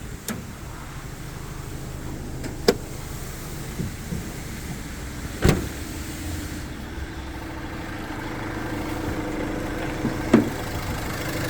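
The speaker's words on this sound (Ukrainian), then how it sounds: "чиста м'яка робота двигуна, ніде нічого не капає, не грюкає, не стукає." A 2017 Renault Master tow truck engine idles smoothly and steadily in the background, with a couple of faint clicks and knocks, no talking.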